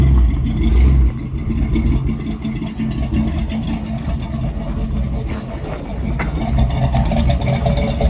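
The engine of a 1968 Dodge D100 Custom pickup truck, not yet fully warmed up, runs loudly up close with a deep, steady rumble that dips briefly, then swells again as the truck is driven, with voices talking over it.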